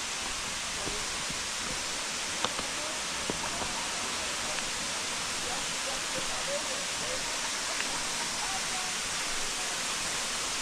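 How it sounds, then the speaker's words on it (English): A large waterfall in Goldstream Provincial Park roars as a broad, steady rush of falling water, with a few faint voices and small knocks under the constant wash. "That's a huge waterfall, right?"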